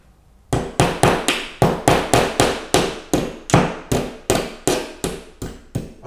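Finish nail tapped into a drywall wall to probe for a stud, a steady series of about twenty sharp close knocks with hollow decaying tails, evenly spaced.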